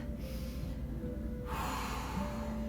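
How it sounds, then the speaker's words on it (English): A single deep breath drawn in during a twisting spinal stretch, a soft airy inhale that swells about halfway through over a low steady background hum, close and quiet with no speech. "Take a deep breath"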